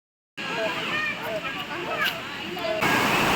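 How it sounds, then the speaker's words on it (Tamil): Water rushes and splashes steadily at Ramanathi dam near a bathing spot by a temple, a continuous close-up roar of flowing water that grows louder toward the end. "தண்ணி பாருங்கள் எவ்வளோ அழகாக வந்துட்டுருக்கு"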